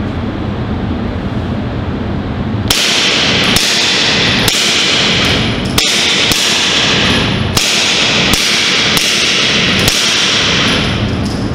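A suppressed pistol from the James Bond films fires about nine sharp, heavy cracks, spaced roughly a second apart, loud and close, with a hiss of air around them.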